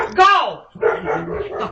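A dog lets out one loud, rising-and-falling bark up close, followed by people talking loudly and continuously over the remaining moments.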